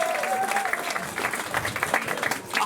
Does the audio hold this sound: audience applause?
yes